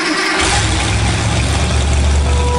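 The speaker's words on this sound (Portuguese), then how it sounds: "Aqui já é uma moto começando a velocidade." A motorcycle engine roars loudly as it starts to pick up speed, a steady, powerful drone that fills the whole moment with no speech over it.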